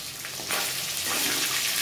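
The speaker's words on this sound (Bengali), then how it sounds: "দেখো মাছগুলো ভেজে আমি তুলে নিচ্ছি," Bhetki fish pieces frying in hot oil, a dense, steady hiss and crackle that swells slightly partway through, close and loud, with no speech.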